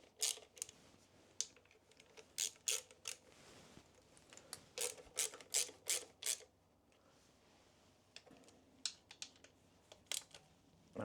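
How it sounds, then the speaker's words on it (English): A hand ratchet tightens 8mm bolts on the stator casing of a Blackbird motorcycle: quiet, crisp clicking in short bursts of several ticks, pausing between turns, with no speech. "It would help if I had the right ratchet. Do a few turns on each."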